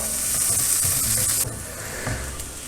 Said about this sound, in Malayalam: ഉള്ളി ഇപ്പോൾ ഒന്ന് മൂത്ത് വന്നിട്ടുണ്ട്.